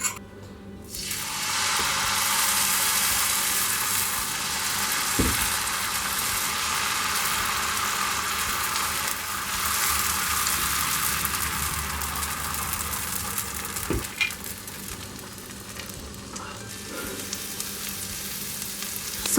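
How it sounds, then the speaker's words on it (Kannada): Brown rice dosa batter cooking without oil on a hot non-stick pan, a steady close sizzle and hiss that holds throughout, broken by a couple of sharp clicks and a few faint taps. "ಪ್ಯಾನ್ ಇಟ್ಟಿದ್ದೀನಿ, ಪ್ಯಾನ್ ಬಿಸಿಯಾಗಿದೆ. ಸ್ವಲ್ಪ ಆಯಿಲ್ ಹಾಕೋತೀನಿ."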